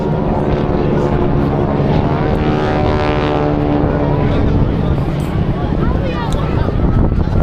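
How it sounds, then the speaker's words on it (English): Boeing Stearman biplane engines roar loudly and continuously overhead at a Blackpool airshow, a thick propeller drone with shifting pitch, while a commentator talks over it. "These Boeing Stearmans are very, very capable aircraft."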